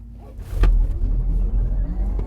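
A Porsche Taycan Turbo electric car in Sport Plus launches at full acceleration from a standstill, a low rumble swelling with a rising whine and road noise heard from inside the cabin.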